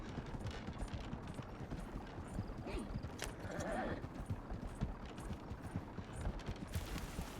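Horse hooves clip-clop steadily as the horse is ridden in a Western roleplay video game, a continuous rhythmic patter running over a busy background.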